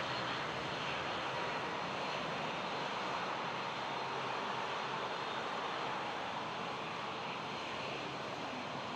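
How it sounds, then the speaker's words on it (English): A heavily loaded Boeing 737 jet airliner roars steadily at Toronto Pearson airport, a continuous loud broadband engine rush with no break, heard from the airfield without talk. "It'll be a heavy 737 going all the way to Reykjavik."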